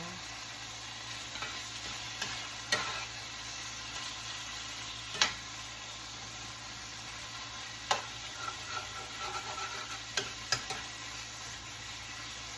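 Faint steady sizzle of garlic frying in a pan alongside cooking meat, punctuated by several sharp clicks and taps of a utensil against the pan, quiet and continuous without talk.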